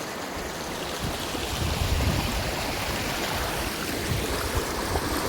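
Singoda river water rushes and burbles steadily throughout, a broad continuous flowing sound, close by and fairly loud, with no voices.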